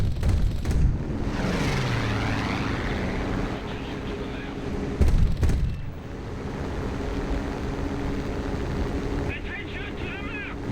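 A BF-109 fighter engine droning in the War Thunder video game, a steady rumbling roar with a passing sweep and a brief louder burst midway, broad and continuous throughout.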